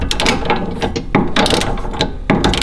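A ratchet wrench clicking rapidly and loudly up close while removing a sway bar end link on a 2018 Mustang GT, in several fast bursts separated by brief pauses.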